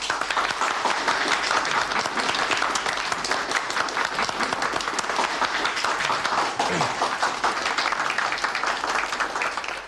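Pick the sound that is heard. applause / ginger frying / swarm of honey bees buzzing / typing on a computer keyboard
applause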